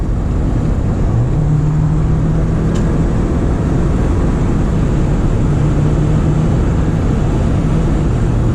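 A 2023 Jeep Wrangler 4xe Sahara accelerates on a highway to pass a Mazda Miata, a steady low drone of engine and road noise from inside the cabin with a rising tone holding throughout.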